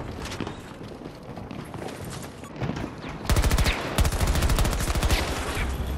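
Gunfire in Battlefield 2042 on PS5, scattered distant shots first, then dense rapid automatic bursts that grow loud and continuous, with faint game ambience underneath.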